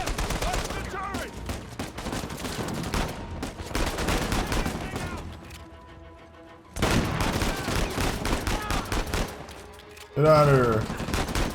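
A big mounted turret machine gun hammers out loud sustained bursts in Uncharted 4, pausing briefly before resuming with heavy rapid fire, while a character shouts over the shooting.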